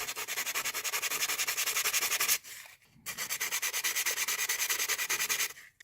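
800-grit sandpaper scrubs back and forth over a repaired bathtub patch in quick, even strokes, close and steady, with a brief pause in the middle before the rubbing resumes.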